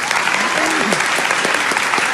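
Loud, dense audience applause fills a game show studio, steady clapping from a close crowd throughout with a voice briefly audible underneath.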